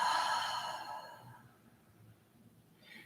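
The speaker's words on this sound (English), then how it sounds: "Deep breath, big inhale. Release it out." Deep exhale in a beginner yoga breathing exercise, one long breathy sigh that fades out over about a second and a half, close and soft.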